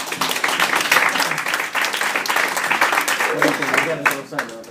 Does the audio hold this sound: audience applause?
yes